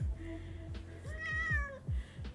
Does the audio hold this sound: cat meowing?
yes